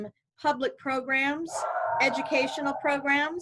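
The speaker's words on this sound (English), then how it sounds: "That's my dog barking in the gallery." A dog barks and yips inside an art gallery, producing several sharp barks and whimpering yelps mixed with a person speaking nearby.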